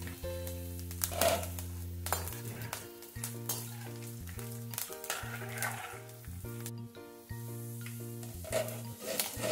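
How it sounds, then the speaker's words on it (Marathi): Grated coconut and sago pearls fry in hot oil for a fasting chiwda, a close, continuous bubbling sizzle with stirring, while strong steady tones, probably background music, run underneath. "आता नारळ साबुदाणा थोडा थोडा तळून काढते"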